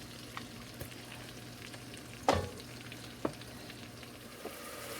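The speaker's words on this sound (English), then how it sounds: "now we're going to add our mushrooms and garlic and cook and stir those for about 5 minutes" Mushrooms and garlic frying in butter and margarine in a pan for a thick soup, with a steady low sizzle and a few sharp clacks as they are stirred, no voices.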